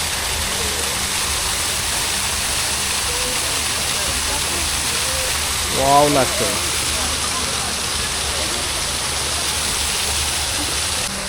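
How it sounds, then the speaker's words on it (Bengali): An artificial waterfall at a water park in Rangpur at night pours in a steady, broad rush of falling water, with a person's brief exclamation rising over it midway. "এখানে ঝর্নার মতো পানি পড়ছে পাহাড়ের মতো"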